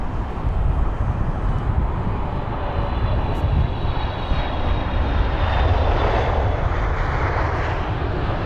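A LATAM airliner passes at London Heathrow airport, a loud, sustained jet engine roar that swells steadily across the whole span with some wind buffeting on the microphone.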